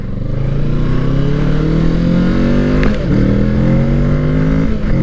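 A 2020 Kawasaki Ninja 650 KRT Edition motorcycle accelerates steadily up through its revs, the engine tone rising continuously with a brief dip near the end, loud and close throughout.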